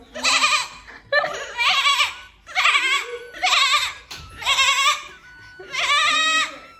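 A person imitates a goat, giving six loud, wavering bleats in a steady series with brief pauses between them.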